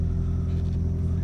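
Lifted Toyota Tercel Wagon SR5 in four-wheel drive granny gear climbing a hill, a low steady engine rumble, close and continuous, with no talking.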